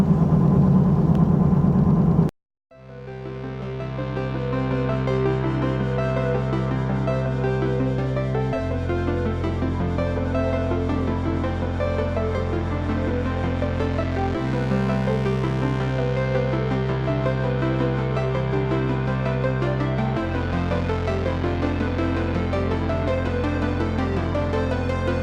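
Noisy tires on a Mustang drone while it drives along, a steady low humming roar with a tone that shifts in stages as speed changes, continuous and fairly loud after a brief cut at the start.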